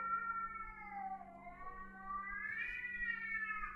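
A stray cat meows loudly and continuously in long, wavering, drawn-out cries that rise near the end, close and alone with no talking.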